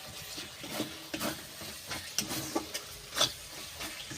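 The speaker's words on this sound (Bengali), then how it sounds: "এইবার ভালো করে কষিয়ে নেব।" Chicken masala being stir-fried in a pan, a spoon scraping and stirring in quick intermittent strokes over a low, steady sizzle, close and fairly quiet with no talking.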